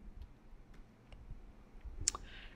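Typing 'rbind' on a computer keyboard: a handful of faint, sparse key clicks spaced irregularly in a quiet room, with one sharper click near the end.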